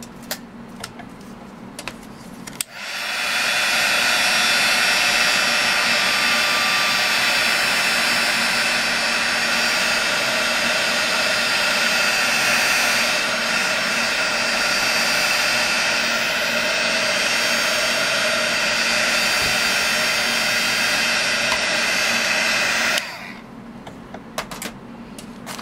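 A hair dryer blows hot air onto a rust-technique craft piece sitting in a tin, switching on with a steady, loud, whining roar that holds for about twenty seconds and then cuts off, with handling clicks before and after.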